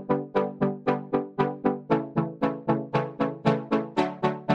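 A synth preset recreating a pop chart sound repeats a steady pulse of plucky notes, about four per second, each with a sharp attack and quick decay, bright and even, heard alone without talking.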